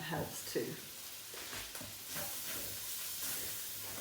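Beef and spices frying in a pan for a curry, a steady broadband sizzle running throughout at moderate level, with a voice talking intermittently over it.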